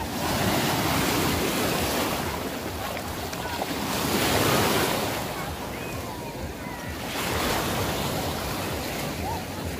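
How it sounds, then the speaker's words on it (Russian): Sea waves wash onto a crowded Azov Sea beach at a resort, a steady broadband roar that swells and recedes, with wind buffeting the microphone throughout. "Пляж и само море."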